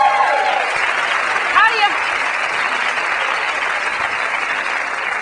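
Studio audience applause during a comedy talk-show monologue, a dense steady wash of clapping filling the whole stretch at even loudness, with a brief voice-like sweep partway through.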